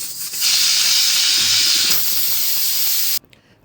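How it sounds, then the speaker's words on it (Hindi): A pressure cooker vents steam in a loud, continuous hiss that holds steady for about three seconds and then cuts off abruptly. "कुकर का प्रेशर हमने रिलीज़ कर दिया।"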